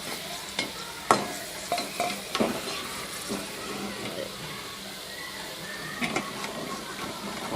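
Corn kernels frying in hot oil, a steady soft sizzle with intermittent clinks and scrapes from stirring in the pan, moderately close with no talking.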